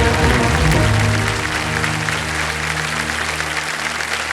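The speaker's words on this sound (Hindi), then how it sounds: "तालियां बज जाए।" Studio audience at a television quiz show breaks into loud sustained applause, dense and even, easing slightly after the first second and continuing to the end.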